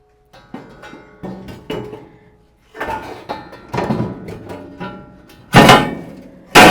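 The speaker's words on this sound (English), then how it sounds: "Now I'm going to put in the griddle plate." Metal griddle plate being set into a grill after the grates are removed, heard as a run of clanks, scrapes and thuds of metal on metal, with a final loud clang.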